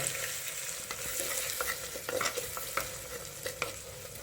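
Chilli powder stirred into hot oil with asafoetida, a bright close sizzle broken by repeated rhythmic spoon scrapes against the pan, with no speech.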